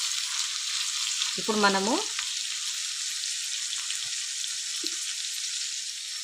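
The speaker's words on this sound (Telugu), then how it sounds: "దొండకాయ పచ్చిమిర్చి అయితే మంచిగా వేగింది" Ivy gourd and green chillies fry in hot oil as a steady, bright sizzle running close throughout, while a voice speaks briefly near the start.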